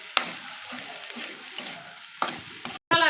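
Beaten egg, onion and chilli flakes are stirred together for a bread omelette, making quiet, irregular scraping and clinking strokes with a few sharper clicks at close range.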